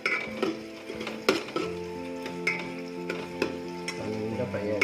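Chicken fried rice sizzles steadily in a pan while a utensil stirs and scrapes it, with repeated clanks against the metal as it is tossed close up.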